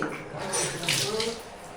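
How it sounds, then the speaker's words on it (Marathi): Water is poured while dishes are washed by hand, making a brief splashing, gurgling wash that rises and falls at close range. "हे आता पाणी टाक"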